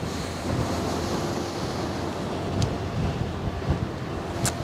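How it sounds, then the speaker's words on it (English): Steady wind buffets the microphone on the bank of the Westerschelde, a constant broadband rush with low rumbling gusts and occasional lapping surf, with no talking. "It's just the wind that has been bothering me for the past 3 hours now"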